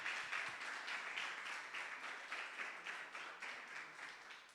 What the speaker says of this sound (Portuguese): Pode sentar e aplaudir o Senhor bem forte aí